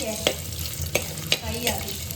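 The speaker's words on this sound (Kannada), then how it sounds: "ಎಣ್ಣೆನ ಬಿಸಿ ಮಾಡಿ ಬೆಳ್ಳುಳ್ಳಿನ ಹಾಕ್ತೆ" Garlic fries in hot oil in a home kitchen for a squid dish, a close, loud hiss broken by four sharp scrape-and-clink strokes of a utensil against the pan, with no voices.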